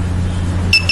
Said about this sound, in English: You can see 5 times buzzer will blink. It's showing the device got reset.